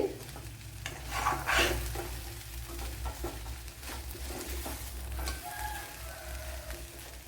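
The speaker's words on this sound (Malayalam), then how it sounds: "രണ്ടോ മൂന്നോ മിനിറ്റ് ഒന്ന് ഇളക്കിയാൽ" Carrot and okra thoran with grated coconut being stirred in a pan, with scraping spoon strokes over a low steady sizzle and a hum underneath, no talking.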